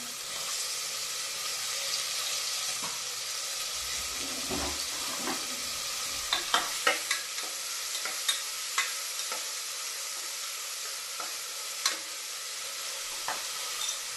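Onion and tomato fry in oil in a pan for a village-style chicken curry, giving a steady close sizzle with scattered sharp clicks of a stirring spoon against the pan and no speech.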